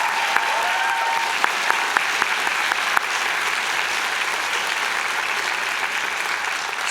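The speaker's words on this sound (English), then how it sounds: "How about another round of applause for the Spirit Vision drummers and dancers?" Full, steady applause from a convocation audience for drummers and dancers, a broad wash of clapping hands that holds at an even level, with a few louder individual claps early on.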